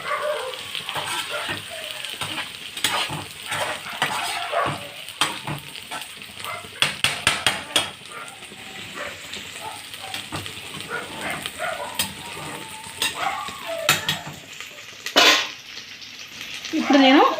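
Mutton biryani ingredients fry in a pan with a soft sizzle, broken by sharp clinks and scrapes of a utensil against the pan while a person talks over the cooking.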